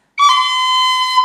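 A tin whistle flicks through a very brief C cut straight into a held B, a single clean bright note sounding alone and close.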